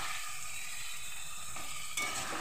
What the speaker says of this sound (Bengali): রসুন, পেঁয়াজ, আদা এগুলো ভালো করে আমার ভাজা হয়ে গেছে।